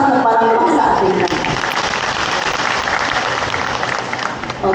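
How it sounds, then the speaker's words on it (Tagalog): A crowd at a division mass training of ARAL program tutors claps loudly and continuously, a thick wash of hand claps that tapers slightly near the end. "Isang malakas na palakpak sa ating lahat"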